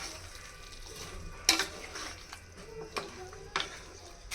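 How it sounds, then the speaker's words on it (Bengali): Shol fish pieces being stirred in a spice masala in a pan: a faint, low sizzle with a few sharp spatula scrapes and clinks spaced out over several seconds. "এখন সবগুলো একসাথে ভালো করে একটু নেড়ে নিব।"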